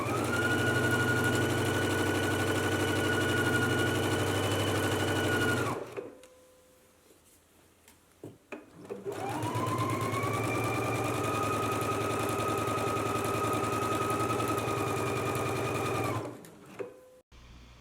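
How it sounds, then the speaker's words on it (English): A sewing machine stitches a 5/8-inch side seam on a skirt in two long, steady, whirring runs, separated by a short pause with a few faint clicks and followed by a brief stop, with no talking. "then you could take it to the sewing machine and sew it, stitching at a 5/8 of an inch seam allowance from the bottom"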